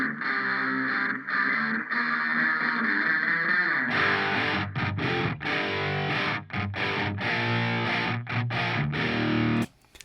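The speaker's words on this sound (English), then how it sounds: "So it sounds like two different guitars, but then there's that splash from the reverb that just kind of adds a little bit something" Layered distorted electric guitars sustain a chord, then shift into a fuller, choppier rhythmic section with a reverb splash fed from an effect mic, loud and continuous until a sudden stop at the end.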